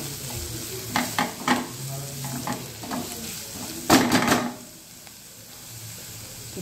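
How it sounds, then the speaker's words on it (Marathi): Chopped onion sizzles and fries in a pan for a dry spiced okra dish, with a steady hiss, a few utensil scrapes and stirring knocks, and a louder burst of stirring before the sizzle settles lower. "कांदा व्यवस्थित फ्राय झालेला आहे आपला।"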